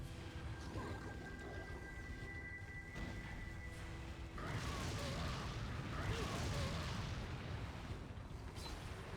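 Fire grenades burst in Resident Evil 4, first a muffled thump and then a sustained crackling, roaring blaze that swells midway and keeps going under a low, faint game soundscape.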